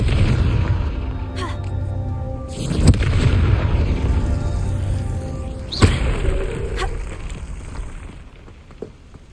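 Confringo blasting spells explode in Hogwarts Legacy, two loud booming bursts a few seconds apart over a rumbling ambient bed, with a voice speaking between them.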